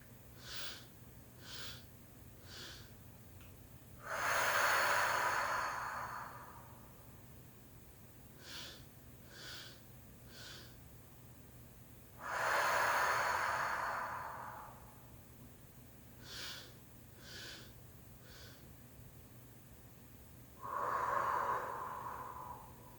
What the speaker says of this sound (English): Last inhale in the chest, and let it all go on the exhale. Slow breath.